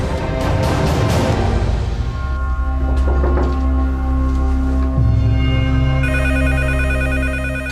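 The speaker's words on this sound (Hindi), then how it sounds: "फोन उठाओ, फोन उठाओ।" A telephone rings steadily in a busy, loud scene with a low hum and music-like tones running beneath it.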